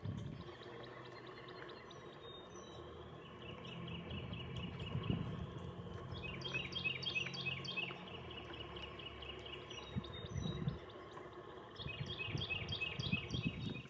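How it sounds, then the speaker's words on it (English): A song sparrow sings outdoors in repeated bursts of bright trilled phrases, moderately near, over a steady low rumble of ambient noise with rustling. "So here's our song sparrow"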